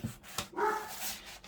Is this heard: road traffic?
no